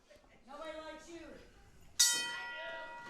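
A wrestling ring bell at an all-star wrestling show is struck once, giving a bright metallic clang that rings and slowly fades, following a stretch of someone talking.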